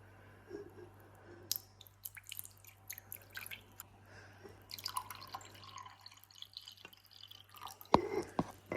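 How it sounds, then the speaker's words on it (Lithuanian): Fresh, cold maple sap trickles and drips from a jug into a glass, a faint, quiet, irregular patter of small splashes in a still room with no talking. "Čia pasiėmė sulas, stiklinį ir dabar pilam."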